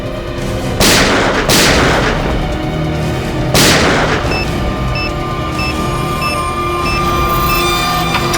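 Loud gunfire in a tense crime-drama scene set in a steam room: three heavy blasts in the first four seconds, each a sharp crack with a long booming tail, over a dense rumbling backdrop with faint tonal beeps afterward.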